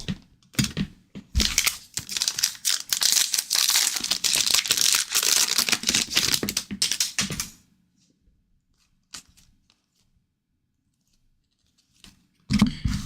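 Plastic crinkling and rustling as a basketball trading card is slid into a protective sleeve, a dense continuous crackle for several seconds, then quiet with a few soft handling clicks and another brief rustle at the end.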